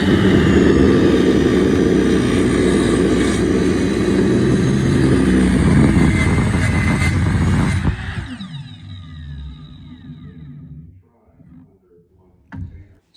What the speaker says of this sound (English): Diablo Steel Demon cermet and carbide blade. It's made for metal and stainless steel.